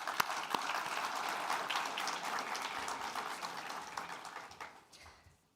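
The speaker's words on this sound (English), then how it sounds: "I would like to ask you to give each other a huge round of applause." Graduates at a graduation ceremony applaud one another, a steady dense wash of clapping with a few sharp close claps at the start, fading out toward the end.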